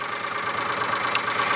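Polaris Ranger utility vehicle engine, mounted under the seat and freshly cleaned of dust, runs at a steady idle with a continuous mid-pitched hum and light knocking texture, close by and alone without talk.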